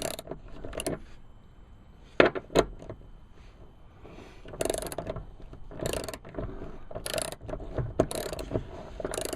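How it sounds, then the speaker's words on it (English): An 18mm socket on a ratchet backs out a seat belt bolt inside a 2013 Jeep Wrangler, heard as a pair of sharp knocks followed by irregular bursts of ratcheting clicks, close and fairly quiet inside the cabin. "just going to use an 18mm socket and a ratchet to get it removed"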